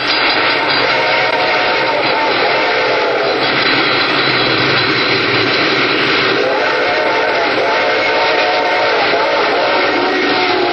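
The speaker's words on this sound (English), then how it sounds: "I could hear its bell ringing and the cry of its whistle" A train draws near with a loud, continuous rumble as a bell rings and a whistle cries out on and off, heavy and close throughout.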